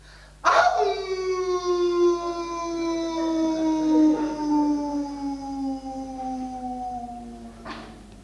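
A stage performer lets out one long, loud dog-like howl in a theater show, rising abruptly and sliding slowly downward in pitch for about seven seconds before breaking off; it is a human voice imitating a dog.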